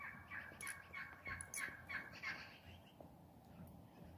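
Turkeys gobbling close by, a run of repeated rapid gobble calls in quick bursts over quiet outdoor background, fading to a few softer calls.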